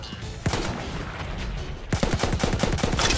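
Gunfire from a tactical weapon in a first-person shooter: a single sharp shot, then sustained background rattle, then a fast string of evenly spaced close shots near the end.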